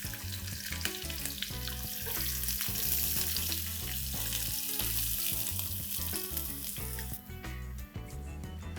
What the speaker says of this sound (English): I'm going to add in a couple of sticks of cinnamon, and along with this, roughly sliced red onions.